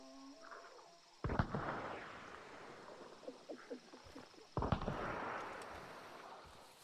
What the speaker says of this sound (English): That explosion behind me makes me nervous.